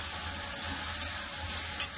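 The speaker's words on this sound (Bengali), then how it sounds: "আদা রসুনটা ভালো করে ভেজে নেবো যতক্ষণ না কাঁচা গন্ধটা চলে যায়।" Ginger and garlic fry with tomato and green chillies in a pan, giving a steady close sizzle with a few faint clicks.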